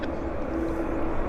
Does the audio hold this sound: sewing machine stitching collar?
no